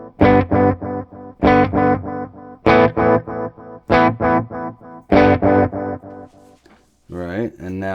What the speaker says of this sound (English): And now we're getting into more repeats, and you can hear it fading out.